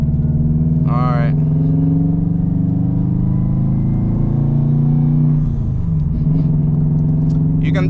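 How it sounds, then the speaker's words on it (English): A 2002 Subaru WRX wagon with a downpipe runs with a steady, loud engine drone and audible turbo intake whoosh, with brief higher whistles from the turbo over the rumble. "You can definitely hear some you know, turbo sounds from the intake, because it has also a downpipe"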